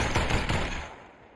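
Gunfire in the video game Population: ONE, a quick burst of several close shots fading into a short ringing tail.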